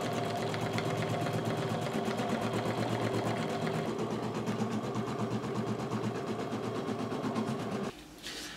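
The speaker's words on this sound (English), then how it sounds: "Once the machine has stitched it down a couple of steps" An embroidery machine stitches Glitterflex heat-transfer material held in a hoop, with a steady, fast mechanical chatter running close and loud for about eight seconds before it abruptly drops away.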